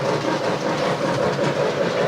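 A model train runs on a two-level layout, a continuous near rumble with steady clicking along the track and no talk.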